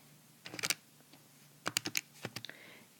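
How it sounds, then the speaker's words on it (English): Quick, light button taps on a calculator come in two short clusters of clicks, close and quiet, with brief pauses between them. "In my calculator, I'm going to type in 250 divided by"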